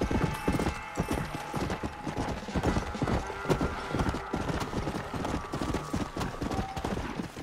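Horse hooves clip-clop steadily in the Red Dead Redemption Undead Nightmare video game, a dense, continuous trotting rhythm heard loud and close with a faint whinny.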